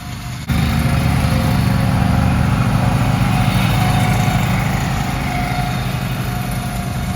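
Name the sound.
lawn mower running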